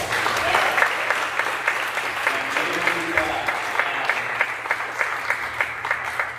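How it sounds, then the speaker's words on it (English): Steady, dense applause from an audience at a Sunday inspirational program, many hands clapping continuously and evenly for over six seconds, fairly close and full. "Let's give them another round of applause."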